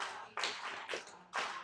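Hands clap a short rhythm in a music theory lesson: three crisp, fairly quiet claps spaced unevenly, with a brief quicker pair in the middle, alone with no voice.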